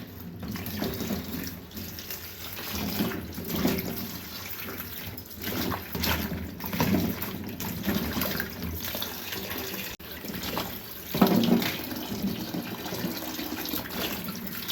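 Okra being rinsed under a running kitchen tap at a sink, a steady splashing stream of water with small shifts as the pods are turned and rubbed by hand, close and alone.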